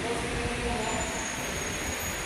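Train rolling through Purwokerto station at midnight, a steady broad rumble with a faint high squeal, heard continuously at moderate distance with a little background voice.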